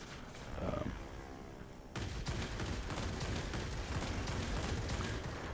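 A 37 mm aircraft cannon in the World of Warplanes combat game fires in a dense, continuous burst of heavy booming shots after a brief roaring engine lead-in, loud and close.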